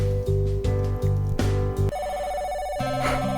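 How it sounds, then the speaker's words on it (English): Telephone ringing in the visual novel game Sakura Swim Club, a loud repeating electronic ring in short pulses, then a shift to a different sustained tone near the end. "The phone is ringing."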